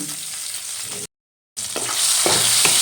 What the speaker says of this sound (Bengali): এবার টমেটোটা একটু ভালো করে ভাজা ভাজা করে নেব